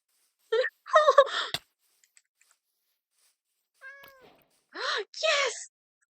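A Minecraft cat gives several clear meows, a cluster of quick calls at the start, then a pause and a few more mews near the end, close and distinct against near silence.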